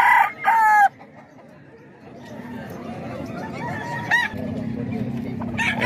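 Chickens at a farm in the Philippines: a rooster crows briefly at the start, then clucks and scattered bird calls rise from a busy yard, with low chatter in the background.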